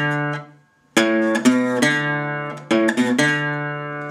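Plucked bass notes on an acoustic guitar in a Delta blues style: a few ringing open and fretted notes on the low strings, struck one after another with a steady pulse and left to sustain, close and clear with no talking.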